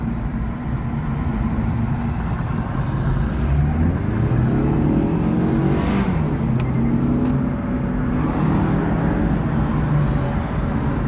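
A Mazda 3 with a 2.5-litre engine rumbles steadily and loudly close by, rising and falling as it revs, with no voices.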